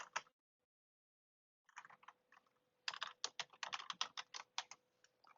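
Login credentials are typed on a computer keyboard: a short burst of keys, a pause, then a quick run of close, crisp keystrokes in a quiet room.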